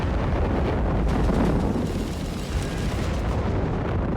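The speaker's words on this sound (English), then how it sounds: "there's an artillery strike catching here several British units" Artillery strike explosions in the Company of Heroes 3 video game, a dense, loud rumbling barrage of booms blending into continuous roaring noise with no talk over it.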